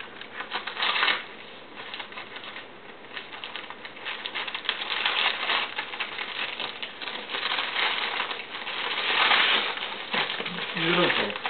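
Paper gift wrapping is cut open with scissors, giving a continuous close crinkling and rustling with bursts of louder tearing and crumpling, while people talk now and then.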